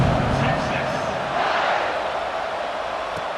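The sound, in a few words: football stadium crowd buzzing after a score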